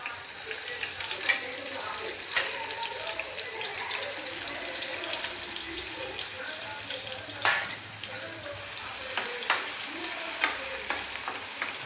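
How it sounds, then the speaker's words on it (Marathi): Garlic fries in hot oil in a village kitchen, a steady crackling sizzle with occasional sharp clicks of stirring, close and fairly quiet. "थोडं तापवायचं तेल. लसूण"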